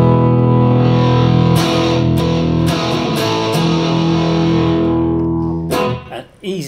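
A 1985 Bond Electraglide electric guitar rings out through effects with phasing and distortion, sustained chords struck anew several times and swelling with reverb before a final strum.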